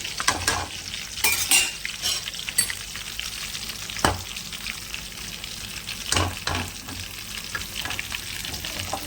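Tempering for dal sizzling hard in a hot pan, a loud continuous crackle broken by several sharp spatters and stirring scrapes, close and without talk.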